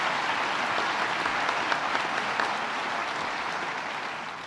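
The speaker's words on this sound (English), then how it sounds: "That's really nice applause for the mayor." A crowd at a government economic development announcement gives the mayor a full, steady round of applause, dense and even clapping that fills the room and tapers off slightly at the end.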